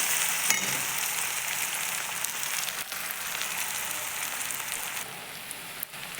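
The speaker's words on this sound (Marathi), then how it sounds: "तेजपत्ता पण छान असा मस्त भाजून घेऊयात तेलामध्ये धण्याची पूड टाकून घेऊयात धण्याची पूड पण छान असे तेलामध्ये भाजून घेऊयात" Bay leaf and coriander powder roasting in hot oil, a dense crackling sizzle like rain on a surface, close and continuous with a couple of brief knocks, no voices.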